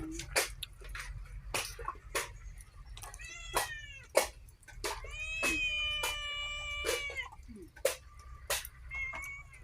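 A cat meows repeatedly in a series of drawn-out, rising and falling cries amid clicks and background rumble, with a rural Thai home setting and a few voices heard briefly alongside.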